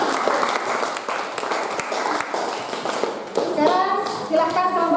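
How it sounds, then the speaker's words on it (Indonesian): A classroom applauds a group presentation. Quick, close-up hand claps rattle through the first half, and students' voices take over as the clapping fades. "kita kasih aplaus"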